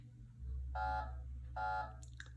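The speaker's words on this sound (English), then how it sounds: "we would hear an alarm." Two sustained buzzing electronic alarm tones, each about a second long, sound over a low steady hum, followed by a few brief higher beeps.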